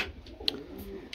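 Pigeons in a loft cooing softly, low murmuring coos with a couple of brief sharp chirps or clicks, quiet and close with no talking.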